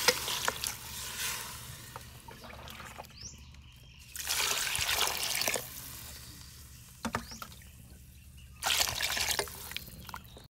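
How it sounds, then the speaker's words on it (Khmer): Water poured into a cooking pot for Cambodian black chicken soup at a market, a steady trickling and splashing pour in several bursts with quieter gaps between, close by and alone. "យើងចាប់ដើមដាក់ទឹកចូលសិនមកឲ្យទឹកយើងបានពុះល្អសិន"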